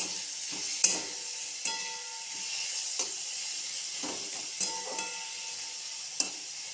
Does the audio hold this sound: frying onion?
yes